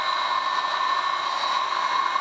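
A hot air gun with a nozzle blows steadily onto foam, melting it; a constant even whoosh with a faint whine, close and alone throughout.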